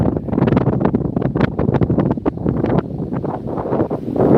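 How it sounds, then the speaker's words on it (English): Outdoor wind buffeting a camera microphone, loud, rough and continuous rumbling gusts with no clear pauses. "can't hear me because of the wind"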